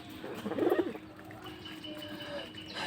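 Pigeons feeding in the afternoon give one close, low, throaty coo, followed by quieter soft murmurs and faint background chirps.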